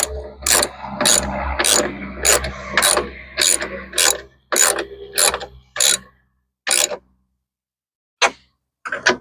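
A ratchet clicks in quick, loud bursts close by as it tightens the mirror bolts on a Toyota Tacoma, with short pauses between strokes that slow toward the end.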